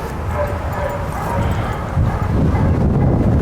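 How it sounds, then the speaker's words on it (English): A small, reactive dog barks and whimpers in short yips during a training session, set over a low, busy background rumble that grows slightly louder toward the end. "She's a very reactive little dog."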